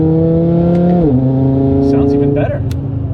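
An Audi RS3 fitted with 034 Motorsport street sport engine mounts drones loudly from inside the cabin, its engine and exhaust pitch climbing then dropping twice as it shifts up, while someone talks over it.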